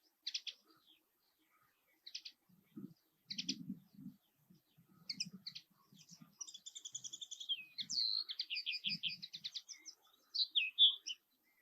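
Birdsong from yellowhammers in County Durham, with a few short bright calls and then a long run of rapid repeated chirps, close and clear over quiet surroundings, plus a few faint low sounds.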